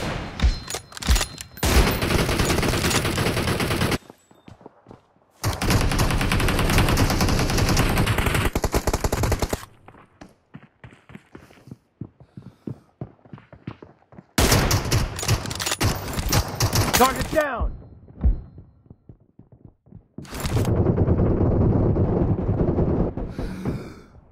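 Gunfire from the PUBG video game: long, loud bursts of rapid automatic fire alternate with shorter volleys and single shots, separated by brief quiet gaps.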